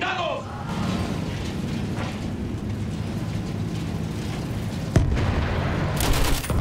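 Battlefield 1 combat rumbles with a dense, continuous din of gunfire and distant booming explosions, with one sharp close blast near the end while voices shout over the battle.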